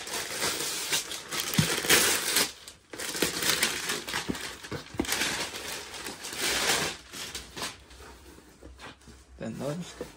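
Gingerbread-themed wrapping paper crinkles and tears as a birthday present is unwrapped, close and busy rustling bursts throughout while a person talks over it.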